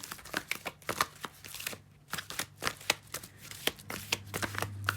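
Tarot cards being shuffled by hand, quick close riffles and soft flicking taps in irregular bursts with a short pause, quiet and without talk.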